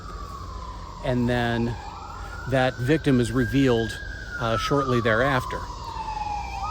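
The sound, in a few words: emergency vehicle sirens passing outside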